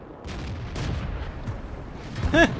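A World of Tanks battle, with several dull armor-shell impacts and gunfire booms spread across the moment, ending in a sharp ringing metallic ping of a shell ricocheting off the tank's hull.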